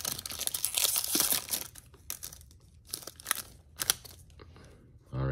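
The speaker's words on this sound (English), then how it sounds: "Can't even rip this pack open." A foil trading card pack is torn and crinkled open, giving close, loud, scratchy tearing and crumpling in irregular bursts with a few pauses between.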